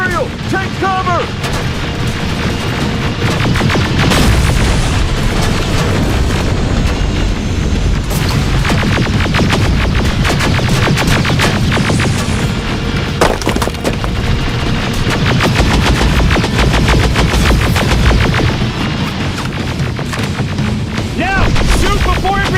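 In the Terminator Resistance video game, rapid gunfire and heavy booming explosions pound nonstop at close range, dense and loud, with shouted voices breaking through the battle.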